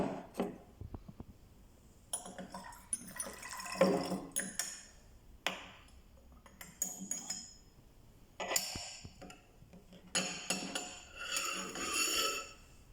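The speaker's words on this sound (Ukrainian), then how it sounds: "І ще раз додатково промиваємо водою нашу ампулу, щоб були точно впевнені, що всю сіль ми перенесли в нашу колбу" Water rinsed through a glass ampoule of magnesium sulfate into a lab flask, heard as intermittent bursts of splashing and trickling with light glassy clinks, moderately close, no talking.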